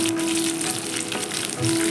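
Curry leaves sizzle in hot oil while tempering for a South Indian coconut chutney, a steady close crackling fry running throughout with a faint tonal hum.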